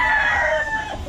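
A gamefowl stag called Golden Boy crowing on a game farm, one loud, close crow held for about a second before trailing off, with no voices over it.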